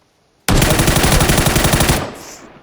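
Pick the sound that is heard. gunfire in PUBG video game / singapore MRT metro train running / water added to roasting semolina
gunfire in PUBG video game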